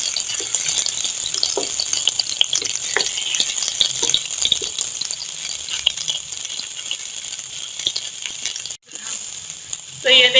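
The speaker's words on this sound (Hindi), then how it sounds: "तो अब दूसरी तरफ से भी इसी तरह से गोल्डन कलर आने तक इन्हें फ्राई कर लूंगी।" Eggplant chapli kababs shallow-frying in a pan, a constant bright sizzle with light rattling and crackle, a short gap near the end, no talking.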